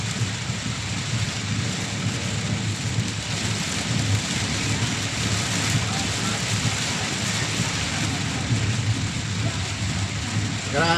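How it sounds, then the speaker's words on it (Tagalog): Heavy rain pours steadily in a dense, continuous hiss, with low rumbling underneath and no break throughout. "Grabe ang ulan."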